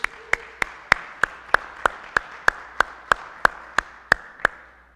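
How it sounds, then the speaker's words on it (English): Church congregation at a Lutheran contemporary service claps in slow, evenly spaced beats, about fifteen sharp distinct claps sounding like a single pair of hands or a tight unison rhythm in a quiet room. "let's applaud loud enough so they can hear us"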